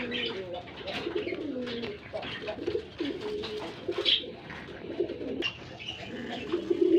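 A pair of fancy pigeons, male and female, coo repeatedly up close in a seller's cage, a steady run of soft throaty calls with background chatter underneath.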